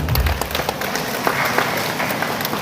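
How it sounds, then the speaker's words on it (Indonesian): An audience at a live commemoration of Central Sulawesi's 63rd anniversary, largely older attendees, gives a brief burst of applause, moderate and somewhat distant over a busy hall background. "Tepuk tangan dulu."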